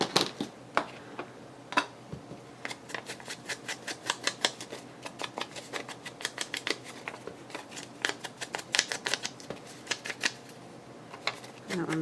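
Scissors trim paper for a library pocket collage in a quick series of crisp, close snips and clicks, irregularly spaced with short pauses, while a person talks quietly.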